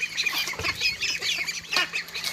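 White chickens clucking close by, a run of short, overlapping clucks and soft calls in a quiet farmyard setting.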